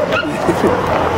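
A pit bull gives a short, low growling whine close by, mixed with brief whimpering yips over roughly a second.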